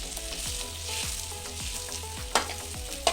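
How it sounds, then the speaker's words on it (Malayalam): Butter heats in a pan for chicken alfaham and mandi, giving a steady close sizzle with crackles and a couple of sharper spatters near the end, with no talking. "ചട്ടി ഇവിടെ റെഡിയാക്കി വെച്ചിട്ടുണ്ട് അതിലേക്ക് ബട്ടർ ഇട്ട് കൊടുക്കുകയാണ്"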